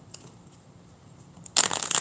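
Tarot cards get a quick shuffle, a brief crisp riffling burst that starts abruptly after a near-silent pause, close and fairly quiet.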